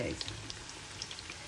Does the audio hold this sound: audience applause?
no